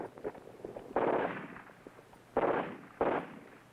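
Sharp sniper rifle shots ring out in a Vietnam War military training film, three distinct cracks spaced across a few seconds, moderately loud against faint background rustle.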